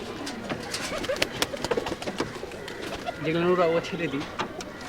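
Rajshahi Giribaj flying pigeons coo softly nearby, a short rolling call rising out of rustling and wingbeats while people talk over them.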